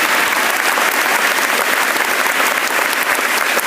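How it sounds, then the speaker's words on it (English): Loud, sustained applause from a large audience honoring teachers at a Teacher of the Year address, dense steady clapping filling the whole stretch without a break. "would you give another big round of applause to these wonderful fine educators?"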